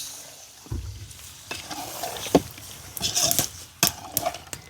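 Water is poured into a pan of frying fish, bursting into loud sizzling followed by stirring scrapes and sharp crackles at close range.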